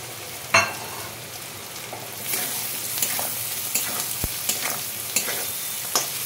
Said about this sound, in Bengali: ভালো করে মশলার সঙ্গে কষিয়ে নিচ্ছি